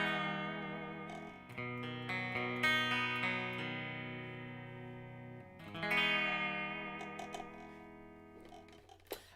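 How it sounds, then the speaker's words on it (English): Electric guitar played through a spring reverb effect, sustained chords ringing with a long washy tail, a second strummed phrase swelling midway then decaying, clear and fairly loud with no talk. "I feel like that's not enough spring and reverb."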